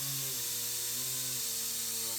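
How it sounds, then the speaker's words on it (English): A pneumatic air knife cuts around the quarter glass of a 2013 Buick Enclave AWD under rebuild, giving a continuous loud hiss with a steady buzzing, droning tone that shifts slightly in pitch. "We're just going to use the air knife, go all the way around the window."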